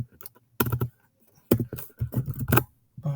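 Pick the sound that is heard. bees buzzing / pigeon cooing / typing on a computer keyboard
typing on a computer keyboard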